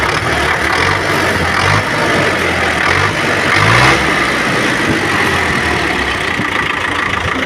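An MTZ-80 tractor's diesel engine runs steadily at idle with a low, rough rumble and a brief rise in revs midway, continuous and fairly close.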